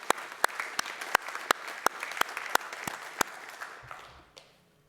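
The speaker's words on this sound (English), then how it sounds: "I'd like to just take a moment and clap and say thank you for all your support on that" Audience clapping at a community annual meeting, a small group applauding with a few sharp, prominent claps standing out over the steady patter, then fading to quiet at the end.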